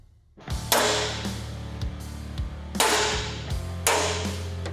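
A hammer strikes a metal punch to mark hole centers during metal work on a '72 Camaro road-course car: a series of sharp, ringing metallic taps at an uneven pace, close and distinct.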